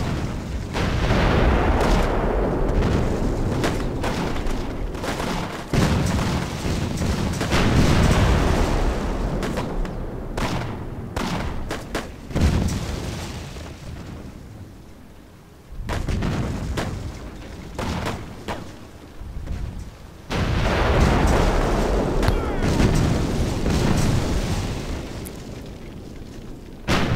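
Mortar and artillery fire in War Leaders: Clash of Nations during Operation Barbarossa, with dense overlapping booms and gunfire rolling continuously, loud and chaotic, with brief lulls between heavy bursts.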